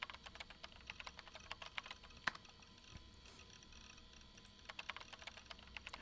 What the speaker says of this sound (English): How many times has he been typing this